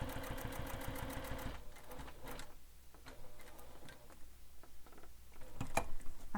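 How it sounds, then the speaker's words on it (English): A sewing machine stitches across the bottom card slot of a handmade wallet, a dense mechanical whir running steadily for about a second and a half before stopping, followed by quieter handling clicks and taps nearby. "So I'm going to stitch across that bottom card slot, right on top of the mark I made"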